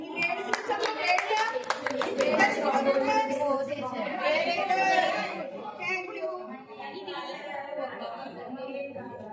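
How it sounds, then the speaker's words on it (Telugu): A burst of hand clapping from a group of children at an anganwadi school readiness fair fades into chatter and talking voices. "క్లాప్స్ కొట్టండి."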